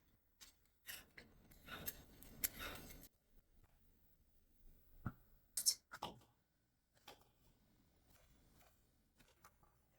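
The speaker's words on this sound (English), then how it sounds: "And now time for the zucchini. And I like to peel the skin off first." A peeler scrapes the skin off a zucchini in a quiet kitchen, a few short rasping strokes in irregular bursts with pauses between, close and fairly faint.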